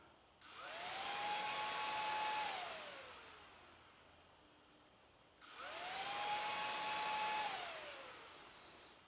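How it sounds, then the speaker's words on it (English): A Yamaha WR250R motorcycle radiator fan spins up twice, each time a close whirring hum that rises, holds steady, then winds down. "the radiator fan is located behind the radiator right here. And you can see right here where it turns on."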